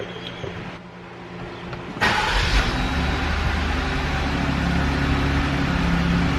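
A Jeep engine restarts with a sudden burst of cranking, then settles into a steady low idle that hums on without pause.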